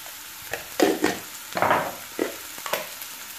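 Sliced button mushrooms frying with spices and a little salt in a pan, sizzling in short bursts as they are stirred, with brief louder crackles between quieter moments and no talking.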